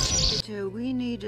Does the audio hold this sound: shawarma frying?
no